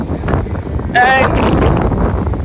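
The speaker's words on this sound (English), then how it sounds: "It's windy." Gusty wind rumbles and buffets the microphone throughout, with a brief spoken word near the start and a short tonal squeak midway.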